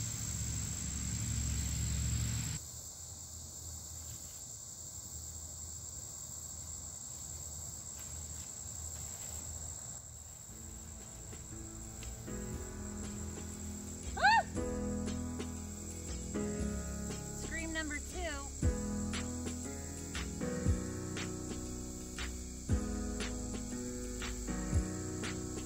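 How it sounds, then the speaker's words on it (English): Insect buzzing from a locust or cicada in a garden among diseased cucumber and green bean vines, a faint steady high drone running throughout under clicks, rustling and handling noise. "Locust or cicada, whatever you want to call him."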